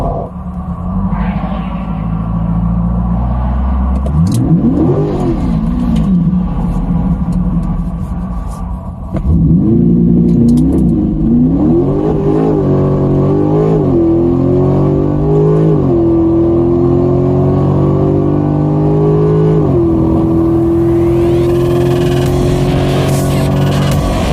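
A 2023 Chevrolet Corvette C8 Stingray accelerates hard, its engine note rising in loud, sweeping runs through several gear shifts, with a steady road and wind rumble underneath and no talking.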